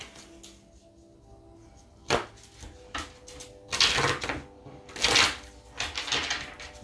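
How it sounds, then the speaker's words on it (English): A Mystic Tarot card deck being shuffled, giving a run of crisp riffling bursts that grow louder and denser toward the end, with no talking. "I'm going to give it a shuffle."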